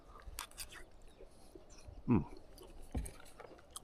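Quiet close-up crunching of rehydrated biscuits being chewed while camping, a few distinct crunchy bites among soft mouth noises.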